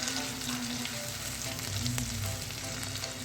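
Tomatoes and green chillies stirred in a pan over a medium-low flame, a steady close sizzle of frying running continuously, with faint scraping of the stirring underneath.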